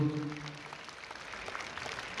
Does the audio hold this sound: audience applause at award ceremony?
yes